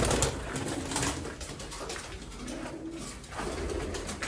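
Several pigeons in a Sialkot loft coo in a low, ongoing chorus amid broadband rustling and bursts of noise, moderately loud and close.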